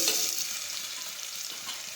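Ridge gourd curry stirred in a hot pan, with a steady bright sizzle and soft scraping of the spoon, close and continuous and without any voice.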